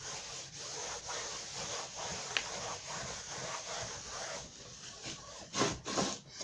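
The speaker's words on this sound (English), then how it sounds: "I go over it again with a baby wipe to get any of the soapy residue off" Wiping soapy residue off painted artwork with a baby wipe makes soft, steady rubbing strokes close by, swelling in a few firmer passes near the end, with no talk.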